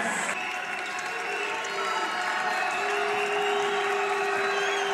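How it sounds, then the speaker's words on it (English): Crowd noise at a New Mexico college basketball game against UCLA near Las Vegas, a steady, building roar of cheering from the stands that fills the arena throughout. "New Mexico crowd getting excited here outside Vegas."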